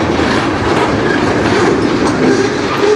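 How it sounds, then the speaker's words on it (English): A CN industrial local freight train rolls past on the Strathroy Sub near Sarnia, a loud, close, unbroken rumble of wheels on rail with a steady clatter throughout. "This is an industrial train"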